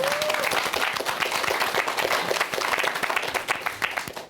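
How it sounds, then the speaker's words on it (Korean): An audience at a lecture hall talk breaks into sustained applause, dense overlapping claps that ring out loud and continuous throughout, with a brief vocal note at the very start. "동의하시면 중간에 미국처럼 박수도 한 번씩 치시고."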